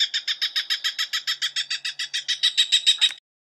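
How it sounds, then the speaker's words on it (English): A Cooper's hawk gives a rapid, even series of about twenty harsh cackling notes, loud and clear with no background noise, ending abruptly. "Cooper's hawk."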